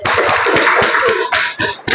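A primary school class claps hands together in sharp, quick bursts, close and loud, with brief pauses between rounds and no voices over it.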